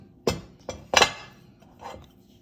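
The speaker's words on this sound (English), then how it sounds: "we will hammer the whole ring together to stiffen the wire" Three sharp knocks, the third loudest, then a softer fourth, with quiet gaps between them, as a rubber mallet taps a wire jewelry ring to stiffen it.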